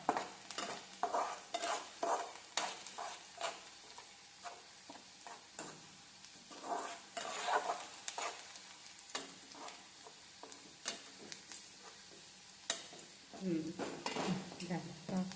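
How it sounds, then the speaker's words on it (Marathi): Onions sauté in a pan on a stove with loose burner knobs, stirred toward golden brown, with intermittent scraping and clinking strokes over a soft sizzle and quiet talk at moderate volume. "गोल्डन ब्राऊन होईपर्यंत परतवायचं"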